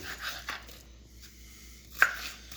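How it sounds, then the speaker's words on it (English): A knife chopping an onion on a cutting board for Hungarian goulash, a few sharp separate cuts with quiet pauses between them and one louder knock near the end, heard alone. "I'm going to cut up an onion."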